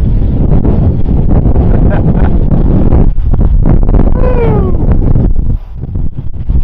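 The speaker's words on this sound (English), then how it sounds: "So you can see the wind's coming in at its side." Strong wind buffets the microphone outdoors during a drone flight test, a loud continuous rumble that never lets up, with a brief rising whine partway through.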